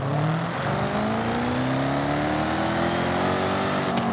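Supercharged car engine in Forza Horizon 5, revving loudly and steadily with a rising whine and sweeping pitch, crackling throughout, close and alone.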